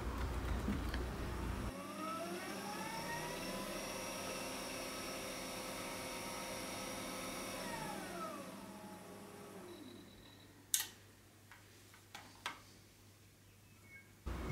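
A Unimat 3 lathe's back-up motor hums steadily with a droning whine; its pitch sweeps up and down as the speed control is switched to off and then to reverse rotation, leaving a quieter hum with a few sharp clicks.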